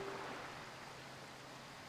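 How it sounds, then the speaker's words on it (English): Steady rain falls on a dark, cursed island in the video game The Legend of Zelda: The Wind Waker, a soft continuous hiss that stays even throughout, with no voices. "this place suffers under dark clouds and rain"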